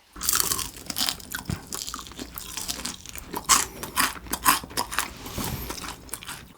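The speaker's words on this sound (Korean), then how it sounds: "옥수수 알갱이가 바삭바삭 톡톡 터진다" Close, crisp crunching and chewing as corn-kernel-coated fried chicken wings, jumbo Korean fried wings, are bitten repeatedly in an irregular rhythm, loud and alone with no talk.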